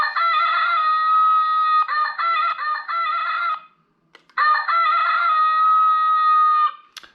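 An electronic doorbell chime fitted to a scooter as a pedestrian warning plays a bright, high synthesized melody close and loud, stopping briefly before the tune repeats.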